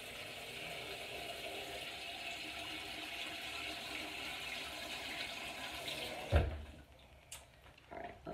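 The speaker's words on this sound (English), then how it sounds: "Fill the pot about halfway full with cold water." Cold tap water runs steadily into a pot set out for boiling six eggs, a continuous hiss lasting several seconds before the flow cuts off, followed by a few faint clunks and drips.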